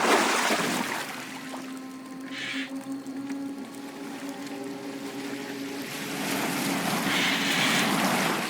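Boat gliding across water in Assassin's Creed Valhalla, a steady wash of waves and hull noise with a sustained low drone, wind-like hiss rising at moments, continuous and fairly even throughout.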